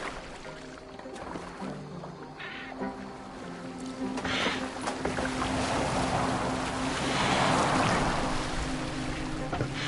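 Longship gliding across open water in Assassin's Creed Valhalla, with waves washing and surging and wind blowing steadily, the water swelling louder midway; no voices.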